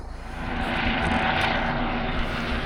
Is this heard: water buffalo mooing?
no